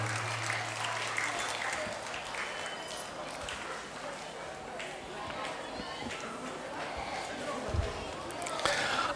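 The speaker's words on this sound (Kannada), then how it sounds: "ದಯವಿಟ್ಟು ಎಲ್ಲರೂ ಚಪ್ಪಾಳೆಯೊಂದಿಗೆ ಅವರನ್ನು ಸ್ವಾಗತಿಸೋಣ" An audience at a silver jubilee felicitation programme claps to welcome two priests, a fairly quiet, steady patter of many hands with a few louder claps near the end.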